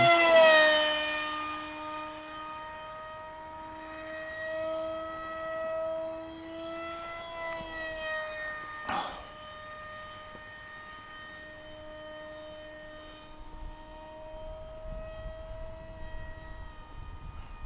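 A Goshawk V2 RC model aircraft flies past at half throttle, its steady, high-pitched motor whine holding fairly constant and moderately distant, fading briefly before returning.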